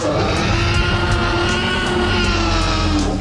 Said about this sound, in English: a realistic dinosaur sound is a mighty roar